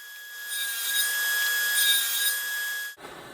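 A saw blade tilted to 28 degrees cuts a chamfer along the face of a wooden hammer head in a shop, giving a steady whirring cut of about three seconds that ends abruptly.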